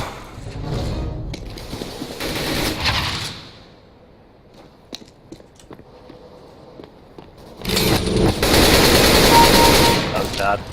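AK rifle fire in Counter-Strike: Global Offensive, two loud bursts of rapid automatic shots at the start and end, separated by quieter footsteps and clicks, with no talk.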